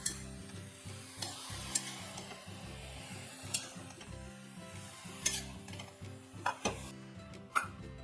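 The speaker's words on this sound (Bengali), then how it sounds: "এখন মশলার সাথে আমি লাউটাকে ভালো করে মিশিয়ে নেব।" Bottle gourd is stirred with turmeric and cumin powder in a pan for lau sukto, a spoon scraping in repeated rhythmic strokes with sharp clinks over a low sizzle, close and clear, no voices.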